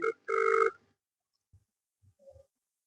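Two short bursts of electronic telephone ringing, close and clear, followed by quiet and a few soft low thumps.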